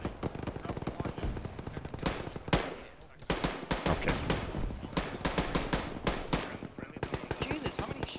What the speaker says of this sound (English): Jesus, how many shots did he need?